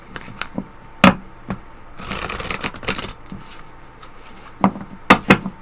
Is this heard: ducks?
no